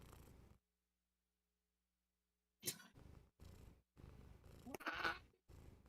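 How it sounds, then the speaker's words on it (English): A pet cat purrs in short close bursts separated by silence, with a few brief rustling movements near the microphone. "My cat's not happy."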